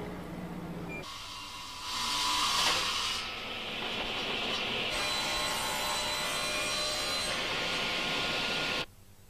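Wood being cut by machine for Seiler piano cabinets: a loud, broad industrial whine and rush that surges and holds for several seconds before cutting off abruptly, with background workshop hum and no speech.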